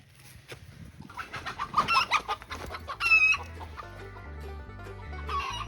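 Chickens and a rooster clucking close by at a goat pen, a burst of overlapping clucks and calls, loud and lively, with one higher call standing out amid the flock.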